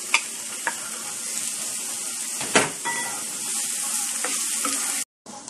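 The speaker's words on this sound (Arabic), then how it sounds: "حمية الطاوة، شوية زيت زيتون، نلم البصل" Onions frying in olive oil in a hot pan, a steady close sizzle with a few sharper crackles and stirring scrapes, ending in a brief cut to silence near the end.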